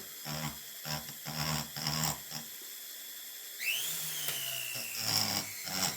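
Rotary burr grinding a P42 piston to fit: short rhythmic grinding bursts, a quiet pause, then a rising high-pitched whine as the tool spins up and bites again, fairly close and moderately loud.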